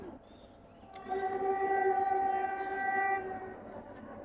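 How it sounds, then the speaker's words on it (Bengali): A train crossing the Nine Arches Bridge sounds a long sustained horn blast over the rumble of the rolling cars, loud and fairly near, fading slightly at the end. "9 আর্চেস বিচের উপর দিয়ে ট্রেন যাচ্ছে।"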